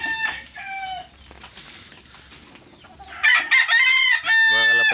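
A rooster crows loudly and close by, a long harmonic cock-a-doodle-doo near the end, with fainter bird calls and farmyard noise earlier, at a bird-release gathering in Pulilan.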